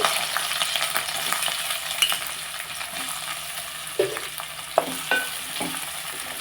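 Curry vadiyalu frying in a pan, a loud continuous sizzle with occasional sharp pops and stirring scrapes, and no voices.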